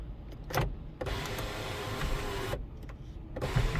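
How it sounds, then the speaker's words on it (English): Power sunroof on a Toyota 4Runner Sport Edition 4WD V8 tilting open, a steady electric motor hum running for a couple of seconds between brief clicks, close up inside the cabin with no talking. "Sunroof is tilted up."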